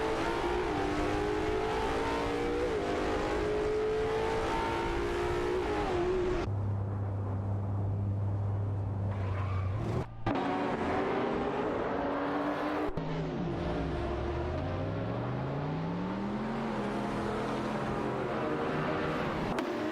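Race cars including a Ferrari 599 GTO roar through an AI racing video game, engines whining and rising in pitch as they accelerate and shift. Steady, loud engine tones fill the whole stretch, with a brief cut partway through.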